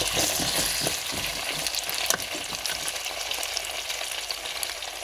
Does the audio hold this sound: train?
no